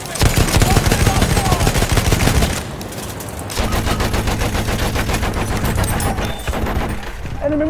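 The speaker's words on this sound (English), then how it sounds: "Machine gun sighted." Sustained machine gun fire in a video game roars close and loud in long continuous bursts, briefly dipping once before resuming, with a brief game voice callout under the shooting.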